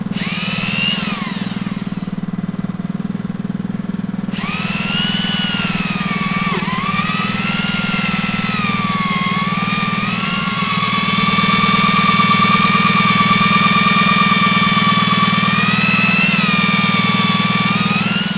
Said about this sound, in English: We over drill the hole with this 16mm auger bit.